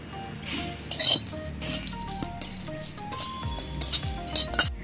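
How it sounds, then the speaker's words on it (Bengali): Dried and green chillies dry-roasting in an empty pan for a winter alu pata bata, with clinks and scrapes of a utensil against metal and a faint sizzle close by. "আমি এবার কয়েকটা শুকনো লঙ্কা ও কাঁচা লঙ্কা খালি খোলায় ভেজে নেব"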